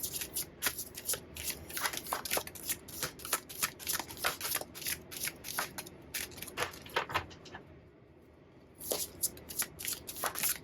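Oracle cards from a Dark Mirror Oracle deck are shuffled for a fortune reading, giving quick repeated riffling flutters in rapid bursts, close and fairly soft, with a brief pause before the shuffling resumes.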